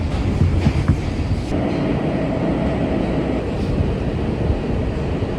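A New York subway Z train rumbles steadily as it approaches Jamaica station, a continuous loud rolling roar of wheels and car noise close by from start to finish with no talking.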